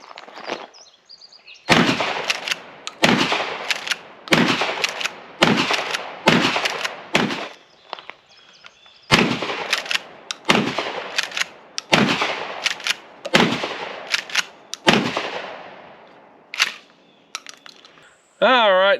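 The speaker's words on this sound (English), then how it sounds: "Just some of the shooting footage of that last time I was here at the range." A Mossberg 590 Security shotgun fires at an outdoor shooting range, about a dozen loud, booming shots in two strings with brief gaps, each followed by a ringing decay.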